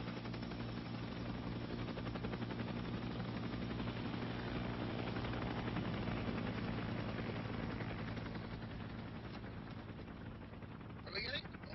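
A military training exercise helicopter drones loudly and continuously throughout, a steady rotor and engine roar that fades slightly near the end, with a brief clatter at the close.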